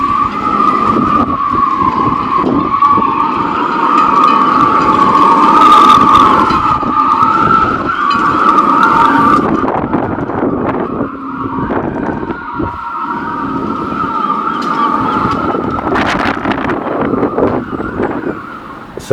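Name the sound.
wind in boat rigging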